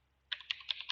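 Keys tapped on a computer keyboard while entering a network configuration, four quick crisp clicks in a light even rhythm, close and quiet, with no talk.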